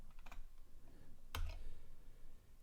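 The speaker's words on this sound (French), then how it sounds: "J'appuie sur Tab." A single sharp Tab key press on a computer keyboard during a Clonezilla USB setup, one crisp click in a quiet room with a few faint softer key taps before it.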